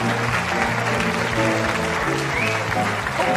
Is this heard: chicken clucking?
no